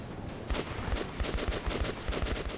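AK rifle fire in Metro 2033 Redux, a quick run of rapid, punchy automatic shots lasting a couple of seconds, loud and close with no speech.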